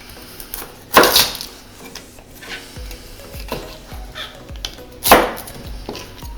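A knife julienning carrots on a cutting board, with sparse sharp chops landing at irregular intervals, two heavier strikes standing out against a quiet kitchen background.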